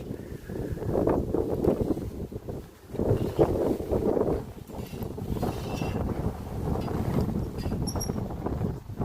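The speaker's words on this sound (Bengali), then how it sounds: "বাতাসের শব্দ আসলে শুনতে পাচ্ছেন কি পরিমাণ যে বাতাস" Strong wind gusts across a hanging bridge by the water in Constanta, buffeting the microphone with loud, rumbling roars that swell and dip for several seconds.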